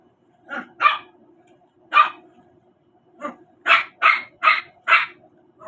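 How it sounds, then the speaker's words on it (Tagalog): A dog barks repeatedly at close range, a few scattered yaps followed by a quick run of four sharp barks, with quiet background hum between. "Maingay yung aso ko."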